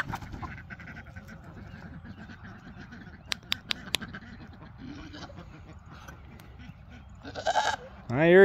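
A goat bleats near the end among farm animals being let out for evening exercise, a loud wavering cry rising over quieter background chatter of birds and scattered clicks.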